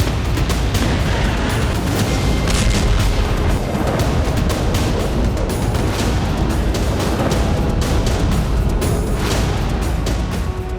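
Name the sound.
missile explosion after being hit in the air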